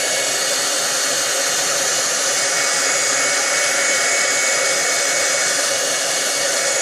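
A heat tool blows steadily as it melts a plastic grocery bag for a shimmering water craft effect, a loud, continuous hot-air whoosh with no talking.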